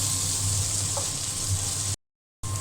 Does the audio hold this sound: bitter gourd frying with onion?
yes